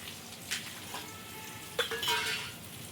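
Cumin and mustard seeds sizzling in hot oil for an Indian-style tadka while cooking noodles, a soft steady frying hiss with a couple of brief utensil clinks and stirring scrapes close by.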